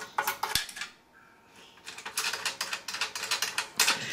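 Thumb screws on a Thecus N5550 NAS case being turned loose, a run of light, close metallic clicks and ratcheting ticks in quick irregular bursts, with a brief quiet gap partway through and no voices.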